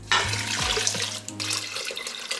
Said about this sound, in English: 4 cups of water.